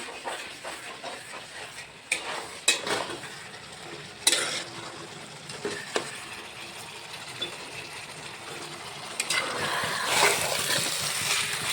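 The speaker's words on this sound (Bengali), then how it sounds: "এখন হচ্ছে আর ঢাকবো না এখন শুধু ভাজা ভাজা করে নেবো" Meat frying uncovered in a pan is stirred again and again as it browns for a curry, giving a steady sizzle with repeated scraping and clattering strokes that grows louder and fuller near the end.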